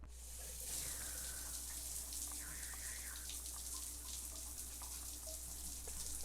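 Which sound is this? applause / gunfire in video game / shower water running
shower water running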